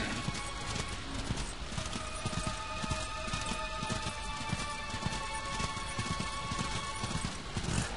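A horse gallops in the video game Darksiders, rapid continuous clip-clop hoofbeats in a steady driving rhythm, mixed with game ambience and effects at moderate level.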